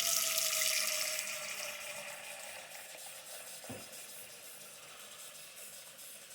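Hot tap water pours steadily into a container in a kitchen, a loud broadband rush that gradually settles to a softer, even flow.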